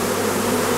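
Bees hum in a dense, steady drone around a hive holding wild bees, close and continuous with no other sounds.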